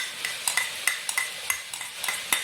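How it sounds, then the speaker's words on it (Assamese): Cashew paste and peas being stirred and fried in a pan for matar paneer: a spoon scrapes and taps the pan in a steady, repeated rhythm over a faint sizzle, with no talking. "এয়া মই কাজু দি পেলাই ভাজি আছোঁ"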